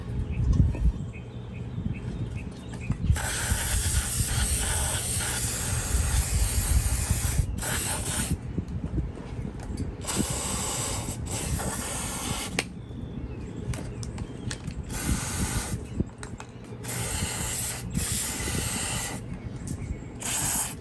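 Cleaner lubricant hisses in long steady spray bursts inside the motor of a 1950s Sears Dunlap drill press, with short gaps between bursts and mechanical rattling underneath.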